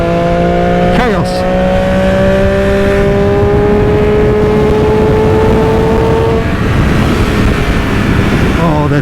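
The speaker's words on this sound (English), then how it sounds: "that sound just gets better and better as the revs climb" A 2020 Triumph Daytona 765 Moto2 limited-edition sport motorcycle revs hard while being ridden, its engine pitch climbing steadily and loudly through the gears, with a shift break and continuous wind and road noise.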